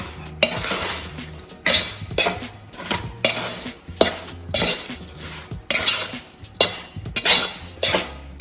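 Strawberries and squeezed half-lemon juice are mixed for jam in a bowl, with repeated loud spoon clinks and scraping knocks in an uneven rhythm, close to the listener.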